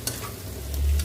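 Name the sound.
stirring fried vegetables and scrambled egg in a pan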